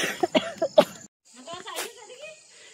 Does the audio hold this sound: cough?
yes